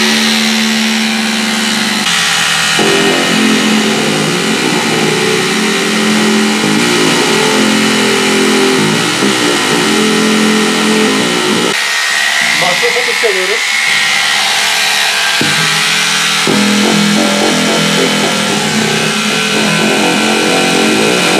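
A hammer drill in hammer mode is pressed against bass guitar strings played through a clean, undistorted amp, making a loud, continuous buzzing drone with shifting pitch, and a voice talks over parts of it.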